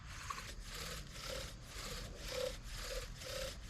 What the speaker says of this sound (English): and then we begin to bow drill.